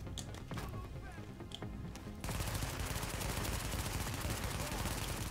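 Enemy machine gun fire in The Division comes as a sudden sustained burst of rapid, rattling shots that fills the second half, after a quieter stretch with scattered distant pops.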